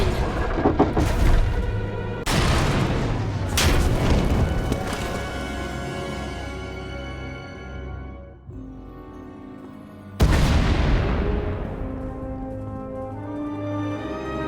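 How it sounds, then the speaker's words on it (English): Explosions in the Star Wars: The Old Republic video game, two heavy booming blasts with long rumbling decay and a third burst near the end, loud and close with nobody talking. "We heard explosions. The tunnel collapsed."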